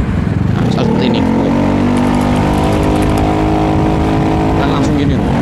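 A motorcycle engine is revved hard with the throttle, a close, loud rising and falling roar with strong harmonic whine held for several seconds, while someone talks over it.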